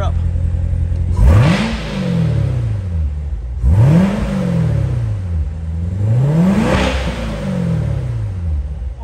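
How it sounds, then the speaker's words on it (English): A 2019 Corvette Z06 with a supercharged 650 hp engine revs three times, each sharp rise in pitch falling back to a loud, close idle between blips. "let's go ahead and rev this car up."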